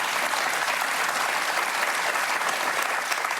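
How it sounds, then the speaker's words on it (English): Dense, steady applause from an audience, a continuous wash of many hands clapping at even loudness throughout. "What was that clapping?"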